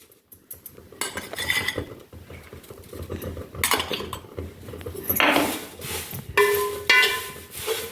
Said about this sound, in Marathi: सर्व जिन्नस परत एकदा एकजीव करून घ्यायचं।